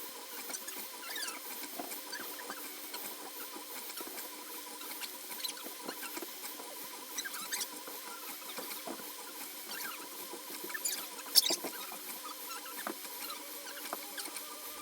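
A 3D printer printing a capybara figure makes quiet, continuous squeaky chirps and faint pattering motor whines, like mice scurrying, at low level with no talk.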